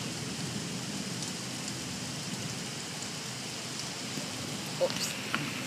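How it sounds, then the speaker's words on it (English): Steady rain pours down outdoors during a thunderstorm with lightning, a dense continuous hiss of drops hitting surfaces, with a couple of faint brief knocks near the end. "Here comes the rain for Sirius."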